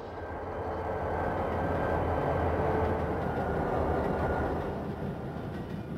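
Southern Pacific SD45 diesel locomotives, big 20-cylinder engines, hauling a coastline reefer train past at close range, a loud steady rumble of engines and rolling wagons that swells in the middle and eases toward the end.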